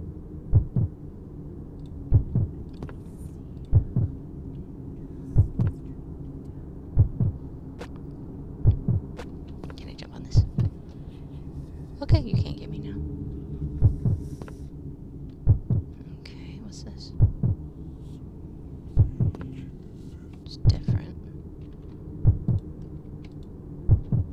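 A slow, steady heartbeat sound effect thumps in regular double pulses throughout, over a low hum with faint whispery sounds scattered between beats.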